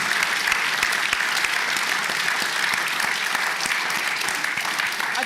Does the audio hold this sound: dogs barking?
no